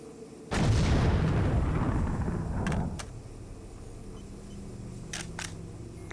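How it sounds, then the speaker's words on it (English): A single heavy gunshot fired through a fence in Deus Ex Revision bursts loudly and rolls off in a long echoing decay. Faint clicks follow in the quiet afterward. "let me shoot through the fence"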